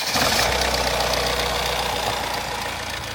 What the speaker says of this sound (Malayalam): എൻജിൻ സ്റ്റാർട്ടാക്കുമ്പോൾ ഉള്ള ശബ്ദം ഒന്ന് കേൾക്കാം